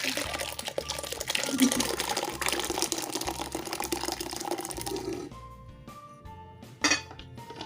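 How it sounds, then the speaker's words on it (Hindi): Blended tomato puree poured through a metal strainer, a continuous wet pouring and clinking of utensils against the strainer and bowl for about five seconds, then quieter scattered clinks and a short knock near the end. "एक स्ट्रेनर में डाल के स्ट्रेन कर लेंगे। तो स्ट्रेन करना है आपने, ब्लेंड करने के बाद ही स्ट्रेन करना है।"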